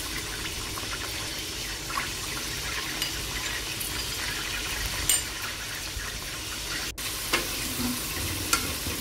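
Ginger garlic paste and spices fry in hot oil for a mutton karahi, giving a steady, close, moderately loud sizzle with a few small pops and stirring scrapes throughout.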